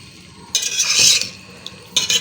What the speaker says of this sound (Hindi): तो यहाँ अब हम डालते हैं 1 कप पानी।